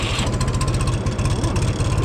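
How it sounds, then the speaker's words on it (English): A tractor engine runs close by with a steady low, rapid chugging throb, loud and continuous with no talk over it. "Start the tractor."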